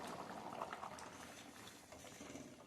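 Chickpea curry (chole) simmering at a steady rolling boil in a pot, with a continuous dense bubbling and soft liquid gurgle that holds fairly even throughout, up close and unaccompanied by speech.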